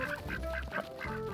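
Ducks beside a new winter duck hut on a homestead before a snowstorm, giving a continuous close run of low honking quacks and calls.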